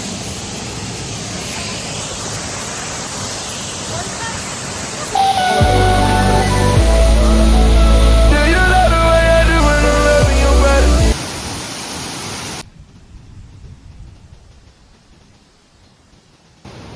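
Small mountain waterfall at Kazbegi, a steady broadband rush of falling water that swells as a loud low rumble mid-clip, then cuts out abruptly to faint background near the end.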